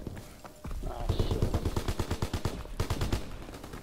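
Rapid video-game gunfire rattles out in tight automatic bursts, a fast even stream of loud close shots with a brief pause before the last volley.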